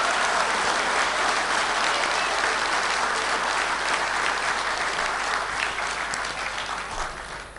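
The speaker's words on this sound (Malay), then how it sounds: "bagi tepukan kepada beliau." Sustained audience applause for Datuk Razali at the 2011 UMNO Youth general assembly, a dense, loud ovation filling the hall throughout and tapering slightly at the end.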